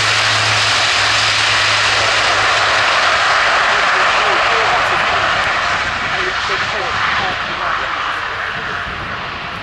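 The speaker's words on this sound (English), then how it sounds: "Plenty of power from the four Europrop International TP400 turboprop engines" An Airbus A400M Atlas military transport flies a display at an air show, its four TP400 turboprop engines producing a loud, continuous roaring drone that stays strong and close before easing slightly toward the end.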